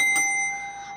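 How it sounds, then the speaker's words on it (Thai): A single bell strike rings out clearly up close, its bright tone lingering and slowly fading over a second, with no one talking. "ระฆังดังแม้งแม้งเลยนะคะ"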